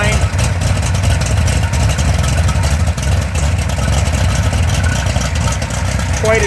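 Mopar 360 short block crate engine running steadily close up, a loud continuous idle with a lumpy camshaft chop and a loosely flopping belt, with no pauses or speech.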